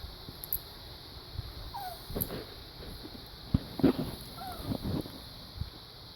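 Dog named Muffin whimpering while being woken in the morning at home: a few faint, thin whines at a distance over a quiet room hum, with occasional soft knocks.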